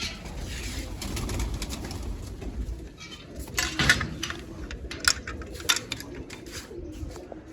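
Pigeons at feed time in the evening cooing softly while low rumbling noise persists, then scattered sharp clicks and flutters near the end.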